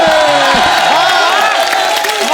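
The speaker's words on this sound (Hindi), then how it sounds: "सर इसके लिए खड़े होकर ताली बनती है" A studio audience at a comedy show bursts into loud, close applause and cheering, with whoops and shouts rising over the clapping throughout.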